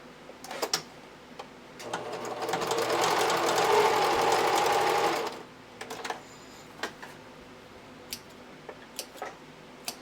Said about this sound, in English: So I'm going to baste this together.